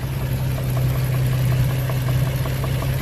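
A car engine idles with a steady low hum and a faint, regular ticking knock repeating through it, close by.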